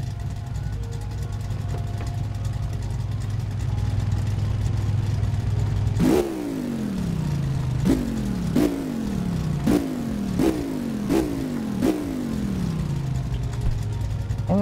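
Old car engine in the My Garage game cranking over and firing, followed by a series of sharp revs that each spike then fall away, six or so bursts over a low idle rumble, with no one talking.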